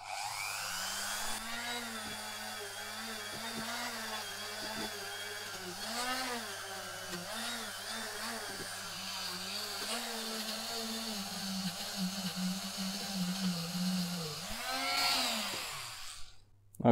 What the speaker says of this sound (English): I'm just gonna go over it with a Dremel tool and a brush and make it clean.